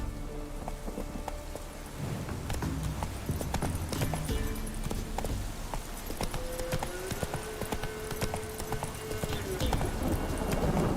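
A horse gallops in The Witcher 3 Wild Hunt, a fast, steady clip-clop of hooves over ground that runs throughout, close and prominent, with a few low ambient game tones and brief musical notes beneath.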